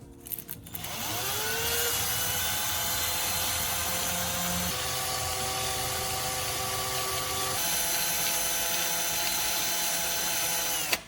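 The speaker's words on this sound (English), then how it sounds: "Turn the drill on at a low speed and lightly touch sandpaper around the graphite." A power drill at low speed spins a graphite rod while sandpaper is pressed lightly against it. The motor whirs up to speed, then holds a steady, close, droning whine for about ten seconds with no talking.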